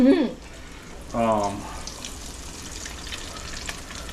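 Pieces of bluefish frying in hot oil in a South Florida kitchen, a steady close crackling sizzle with a brief voice near the start and another short burst of speech after a second.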